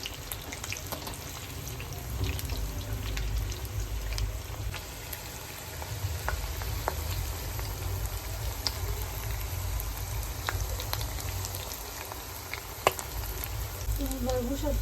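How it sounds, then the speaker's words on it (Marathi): Corn bhaji frying in hot oil, a close, continuous sizzle with scattered pops and crackles as the fritters are stirred, with a voice talking over it. "हे पहा, अशा प्रकारे भजी मी हलवून घेत आहे, व्यवस्थित फ्राय करून घेणार आहे।"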